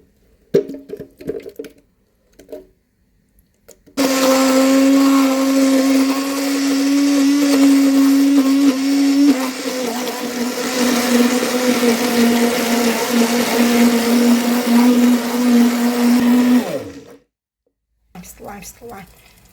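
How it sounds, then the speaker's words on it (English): A kitchen blender runs for about thirteen seconds, blending creamy pasta sauce with cooked pasta. The motor whirs loudly and steadily, its pitch dropping partway through, with a few faint sounds before and after. "I will go and add it to my blender and blend"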